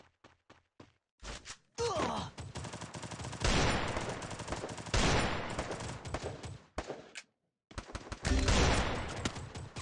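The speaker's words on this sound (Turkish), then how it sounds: "Taramalı moduna girdim." Automatic gunfire in the mobile shooter game Free Fire, with long dense bursts of rapid shots broken by brief gaps and a few isolated single shots, loud and close.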